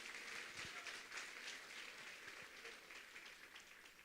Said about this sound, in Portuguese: vocês merecem um aplauso